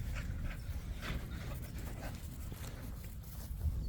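American Bully puppies and dogs panting close by, rapid rhythmic breaths with a few faint whimpers over quiet outdoor background, no talking.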